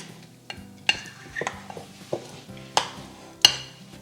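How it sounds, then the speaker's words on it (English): A utensil mashes cooked egg yolks in a bowl for a deviled egg filling, giving intermittent close taps and scrapes against the bowl with a few sharper knocks and no speech. "Smashing down on the egg yolks to get a smooth base"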